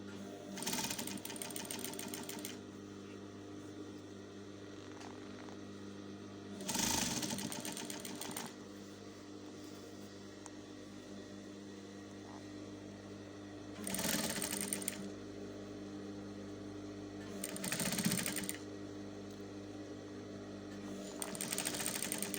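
Sewing machine stitching the seam of an A-line cold shoulder shift dress, several short bursts of rapid mechanical whirring separated by pauses, with a low steady hum underneath.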